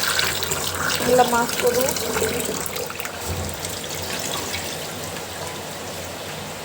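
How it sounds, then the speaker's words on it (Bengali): Heavy rain pours down in a dense, continuous wash of water, loudest early on and then easing slightly, while a voice briefly speaks over it. "এত পরিমাণে বৃষ্টি হচ্ছে"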